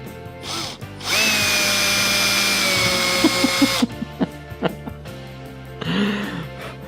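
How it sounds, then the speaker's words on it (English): Small power drill with a thin bit whirring steadily into a JS Elcano scale model for about three seconds, close and loud, followed by scattered clicks and handling knocks of the workbench. "With the broken drill bit, we discovered that I can use the thinner one because it still drills."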